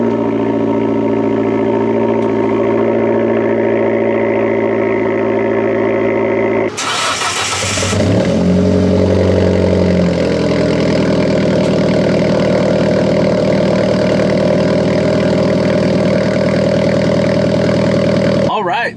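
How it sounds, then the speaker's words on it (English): A Fiat Abarth engine cold-starting: a brief cranking burst, then a catch into a loud, high-revving idle that slowly settles, close by, with a person speaking over the steady engine hum. "here's a cold start for the Abarth."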